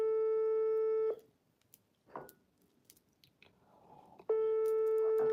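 A phone's steady electronic ringing tone sounds in two long, loud bursts separated by a quiet gap, while the call goes unanswered. Faint rustling fills the pause, and no one speaks.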